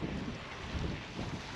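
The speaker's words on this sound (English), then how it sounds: "Let's see, there's the wind." Steady rushing wind buffeting a GoPro Hero 9 media mod microphone outdoors, a dense low roar that swells slightly in gusts without any other sound.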